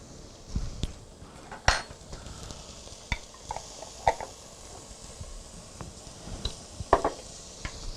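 Minced garlic and vegetables cook down in a pan on a home stove, with a soft sizzle under repeated scraping and clinking as a utensil stirs against the pan in irregular bursts.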